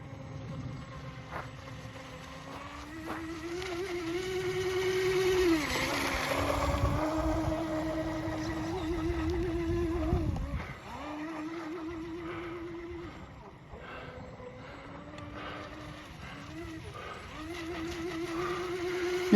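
A small model motorboat runs across a pond, its engine a thin, fairly distant whine that rises and dips in pitch as it speeds up and slows down, with wind buffeting the microphone.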